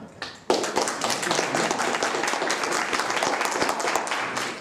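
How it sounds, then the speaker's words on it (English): An audience at a festival comedy panel game applauds to vote for a contestant, with a few scattered claps at first, then a sudden burst of full, sustained clapping that holds steady. "So I want you to vote by applause for each person on this"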